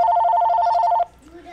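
A telephone rings during a live stream with a steady, loud electronic warble for about a second before cutting off abruptly, followed by a brief quiet stretch and a faint voice.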